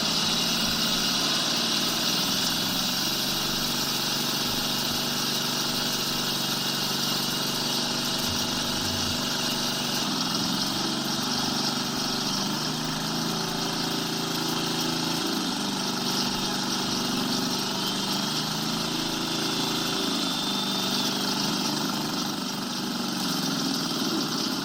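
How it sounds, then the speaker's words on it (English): A drill rig bores through road pavement to take a sample, its engine droning continuously and loudly for the whole stretch with a steady mechanical hum and vibration. "So he's drilling through the pavement to collect a sample."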